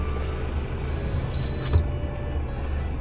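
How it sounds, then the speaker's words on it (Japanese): A heavy truck's power window whirs briefly and closes with a soft thump while the engine idles steadily inside the cab of a 2021 Mitsubishi Fuso Super Great. "窓閉めます。"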